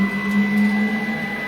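CNC router moving its axes under an SMC5 controller, a steady motor hum with a strong tonal whine, continuous and fairly close, with no talk.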